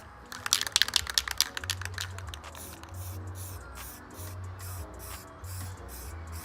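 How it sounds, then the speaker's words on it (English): Aerosol spray paint hissing in bursts onto a rust-repaired panel of a 4th-generation Dodge Ram, close and steady, with rattling and clicking handling noises near the start. "what I'm gonna do is just spray in this area as much as I can"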